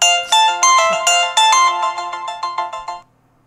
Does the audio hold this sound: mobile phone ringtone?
yes